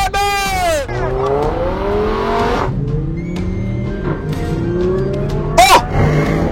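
An Audi RS6 accelerates hard in a race against a Lamborghini Huracan, its engine revving up through rising gear pulls with a loud, close roar, a brief squeal and excited voices shouting over it inside the car.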